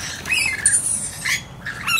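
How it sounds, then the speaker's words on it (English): Wild rainbow lorikeets give shrill, harsh squawks in quick overlapping bursts, loud and close, with no talk. "They're rainbow lorikeets, wild birds"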